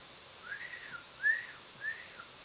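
A toy whistle blown three times in a children's story, short rising-and-falling warbling tones spaced evenly, fairly faint over a quiet background, with the middle blast the loudest.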